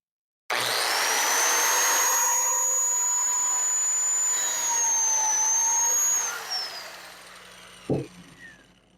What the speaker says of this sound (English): So now I got my notch for the spline.